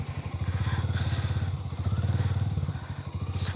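The engine of a Harley Davidson X440 motorcycle idles and pulses at close range with a rapid, rhythmic single-cylinder thump that rises slightly as the ride gets under way.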